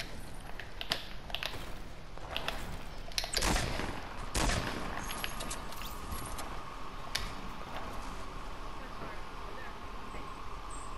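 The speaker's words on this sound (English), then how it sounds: "they're shooting at us" Gunfire in a Fortnite duo match, with scattered shots and one louder burst cutting through, heard under steady talking from players.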